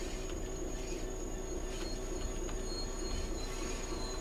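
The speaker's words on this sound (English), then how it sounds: "All the flange sounds round there." Train wheel flange squeal on a Southeastern high-speed line near Dartford in Train Sim World 3, a sustained thin high-pitched whine over the steady rumble and rattle of the rolling train, continuous and fairly loud with no talk.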